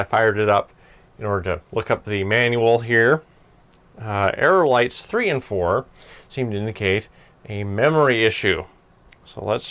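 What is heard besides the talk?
No everyday noises stand out.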